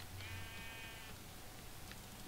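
Sheep bleat briefly in a Minecraft world, one short wavering bleat near the start followed by a faint second call, set against a steady hiss of background noise.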